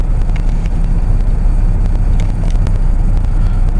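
Loud steady road rumble and engine drone from inside a 2002 Toyota 4Runner driving as its 4WD engages, with faint clicks and ticks over the constant low noise.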